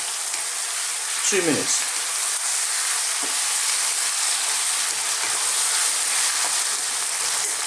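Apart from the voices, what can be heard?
lamb sizzling while stir-fried in a pan on high heat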